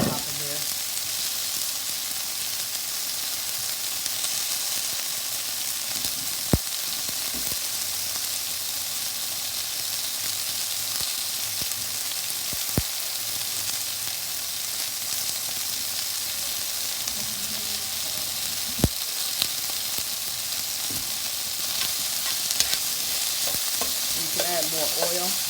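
Onions for a beef stew sizzle steadily in oil in a pot, with occasional clicks and scrapes of stirring over the continuous frying hiss; no talking.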